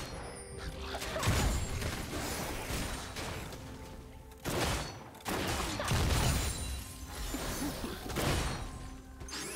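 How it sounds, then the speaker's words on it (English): Turret destruction in a League of Legends match, with heavy crashing impacts and rumbling blasts layered over dense game effects, loud and continuous with a brief dip midway. "Blue team's turret has been destroyed."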